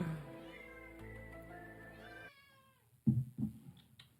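A cat gives a long, drawn-out meow that slides downward, followed by two short, louder meows after a brief pause, close by.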